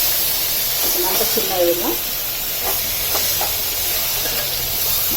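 Minced mutton kheema frying in oil in a pan, giving a steady dense sizzle and hiss throughout, with someone speaking briefly over it.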